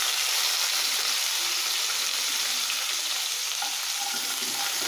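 Coconut pieces and dried red chillies fry in hot oil in a pan, a dense, even sizzle holding steady and close for the whole stretch, with no talk.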